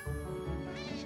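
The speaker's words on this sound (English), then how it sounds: "what is this cat doing?" A cat in the Minecraft video game lets out one drawn-out, fairly quiet meow that lasts most of the moment, with no speech.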